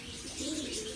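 A single soft, low coo from a young male Kabra pigeon, faint and brief, over quiet background hiss.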